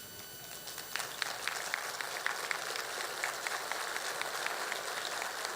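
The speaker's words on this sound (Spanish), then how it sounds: "De esta manera agradecemos sus aplausos al maestro Eduardo" Audience at a national meeting of performance auditors applauds a speaker, a steady wash of many hands clapping at moderate distance, sustained and even throughout.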